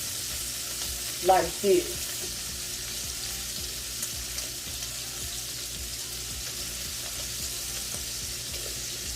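Cabbage and sausage sizzle in a pan, a low even frying hiss running throughout; a voice speaks briefly near the start.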